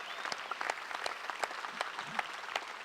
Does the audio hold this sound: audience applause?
yes